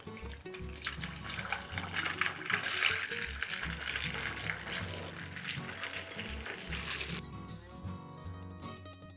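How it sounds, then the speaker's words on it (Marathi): Churros frying in hot oil, a steady close bubbling sizzle that runs continuously with low clatter beneath, easing off toward the end. "त्याचप्रमाणे मी आता हे बाकीचे सगळे फ्राय करून घेतोय."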